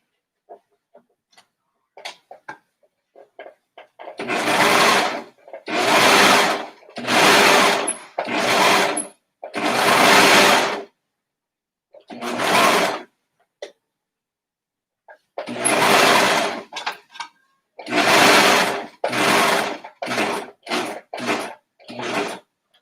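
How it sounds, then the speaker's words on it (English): A serger stitches a baby swaddle in rapid, loud mechanical bursts of a few seconds each, separated by short pauses and scattered small ticks and clicks, with the machine's thread tension set very loose. "I'm gonna have to rethread my serger."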